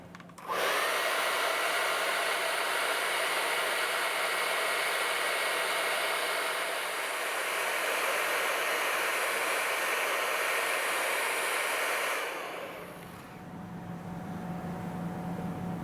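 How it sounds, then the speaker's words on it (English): Hairdryer blowing steadily on the front double-kidney grille of a BMW iX xDrive50 electric SUV, a loud continuous whooshing rush for about twelve seconds before cutting off, leaving a quieter hum behind. "use a hairdryer on the car on the double kidney"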